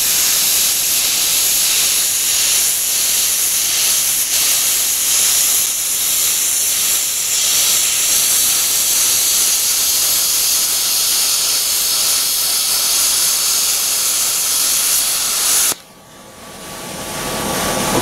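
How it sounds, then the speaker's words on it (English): A PowerMax 45 plasma cutter in gouge mode cuts out a differential spring perch with a loud, steady roaring hiss that holds for about fifteen seconds, then cuts off abruptly, leaving a quieter airy hiss. "we're going to go ahead and gouge it out, use the gouge mode on the PowerMax 45"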